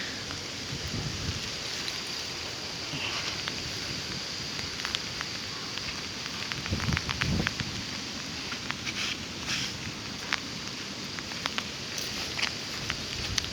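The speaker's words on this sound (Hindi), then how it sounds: "बारिश तेज हो रही है।" Heavy monsoon rain in Goa pours steadily as a dense hiss with scattered louder drops and splashes, constant throughout and fairly distant, with no talk.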